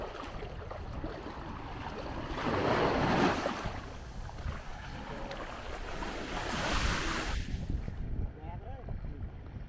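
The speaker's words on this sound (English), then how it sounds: "Let's walk a little bit on the beach to enjoy, to relax." Ocean waves wash onto White Sand Beach on Koh Chang, Thailand, swelling in two broad surges with steady wind noise across the microphone, heard close while walking along the shore.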